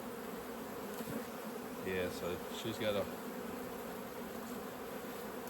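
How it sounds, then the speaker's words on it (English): Honey bees buzz in a packed hive super during a honey flow, a faint, steady drone from the overflowing box as someone speaks briefly over it. "a box full of bees overflowing everywhere"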